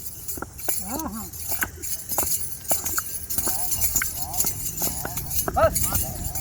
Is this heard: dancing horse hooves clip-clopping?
yes